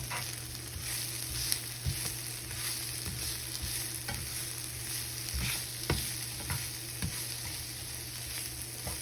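Onion and other ingredients sizzle in a hot frying pan while a utensil stirs and scrapes through them, a constant crackle with irregular clunks from the stirring, close up and with no voices.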